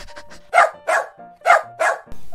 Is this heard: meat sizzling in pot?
no